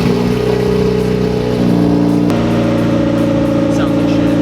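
A car engine, running on a spare tire, holds a loud, steady mid-pitched drone that steps up in pitch twice as it revs, with voices faintly present under the engine.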